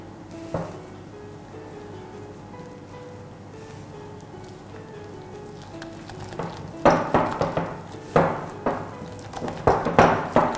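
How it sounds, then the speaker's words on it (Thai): Liquid batter for gold egg yolk thread cakes is stirred in a bowl, starting with faint scraping and then turning into rhythmic, clinking strokes of a utensil against the bowl that grow louder and more vigorous toward the end. "แล้วก็คนต่อให้ส่วนผสมเข้ากันค่ะ"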